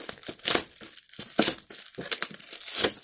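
Match Attax Champions League 19/20 card packets being pulled out and handled, with bursts of crinkling and crumpling foil wrapper coming close and fairly loud in uneven rustles over about three seconds.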